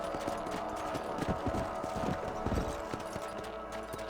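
Horse hooves clip-clop at a trot in the Red Dead Redemption video game while riding out on patrol across a ranch property, a quick steady rhythm of fairly soft, close thuds over a low ambient bed.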